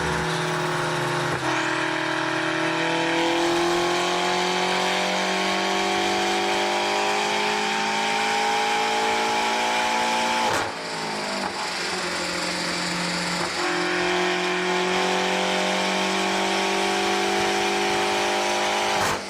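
A BMW M8 twin-turbo 4.4-liter V8 revs high with rising harmonic tones, climbing in pitch, a brief break near the middle, then revving up again, loud and sustained.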